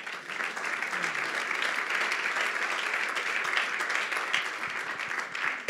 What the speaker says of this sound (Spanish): Un aplauso fuerte a Cristo.